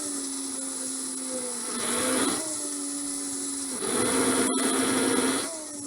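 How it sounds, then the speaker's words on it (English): A Ryobi R18PD5 brushless electric drill/driver whirs at close range in two rising bursts, its motor pitch climbing and then dropping back to a steadier idle whine between runs. "Does your electric drill do this?"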